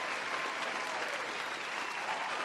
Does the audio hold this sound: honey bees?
no